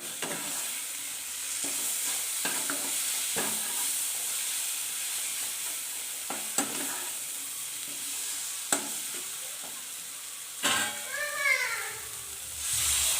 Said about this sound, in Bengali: লঙ্কা গুঁড়োটা দেওয়ার পরে আর একটু নাড়াচাড়া করে নেব